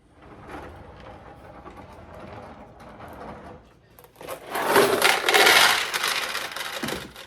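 A restored 1972 Nishijin Model A vintage pachinko machine runs with a dense rattling, clattering patter of steel balls that swells louder and busier halfway through, after a quieter mechanical whir, with no talking.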